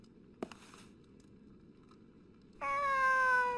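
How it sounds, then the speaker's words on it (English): Cat meows from behind rubble in the video game Fragile Dreams, one clear drawn-out meow arriving late after quiet ambience and a single soft tap. "The cat's meowing on the other side."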